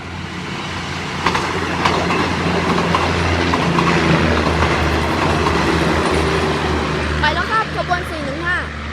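A six-car train rumbles past close by in Nong Khai, Thailand, a steady heavy roar with rhythmic wheel clacks, while a person talks over the noise.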